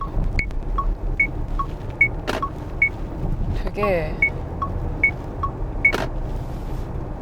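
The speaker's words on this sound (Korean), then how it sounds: "이거 깜빡이 소리 이거 뭐야 이거" A KGM Actyon Hybrid's turn signal ticks in a steady, regular rhythm of bright, electronic-sounding clicks while someone talks over it inside the cabin.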